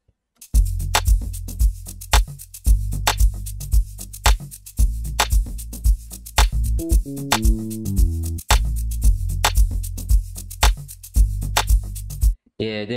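Remake of a beat in FL Studio, with deep sustained bass and punchy drums: regular kicks and crisp percussion hits run in a steady Afrobeats groove, a short melodic break midway, then the groove returns and cuts off near the end.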